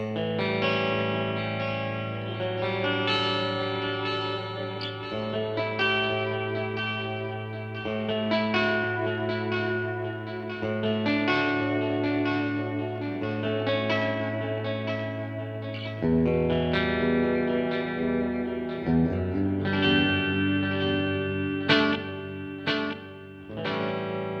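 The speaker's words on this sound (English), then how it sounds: "the delays sound cleaner and pretty much stay the same as the repeats deteriorate" Sustained electric guitar chords through a Donner Twin Series tap delay pedal, echoing repeats trailing behind each note, a steady wash of delayed sound that shifts to new chords midway.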